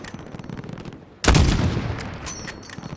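Loud, close gunfire from the Call of Duty Modern Warfare campaign erupts after a short quieter stretch, then continues as a dense, sustained volley with no talk over it.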